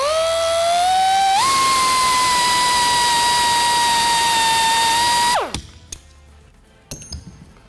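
A loud, steady high-pitched whine of a power drill drilling out rivets runs for about five seconds, then winds down abruptly, followed by a few faint clinks and taps.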